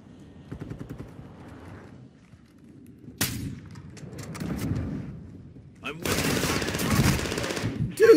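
Bursts of automatic gunfire from the player's own gun in a first-person shooter video game, rapid rattling volleys that start and stop, louder toward the end, mixed with someone talking.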